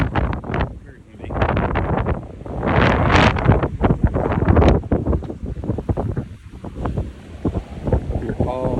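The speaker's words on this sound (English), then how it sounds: "very windy." Strong gusts of wind buffet the microphone outdoors on a street near a dog park, a loud continuous rumbling roar that surges and dips throughout, with a voice talking intermittently underneath.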